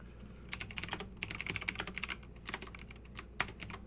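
Someone types code on a computer keyboard during a programming class, a quick run of close, clicky keystrokes in bursts with short pauses and no talking.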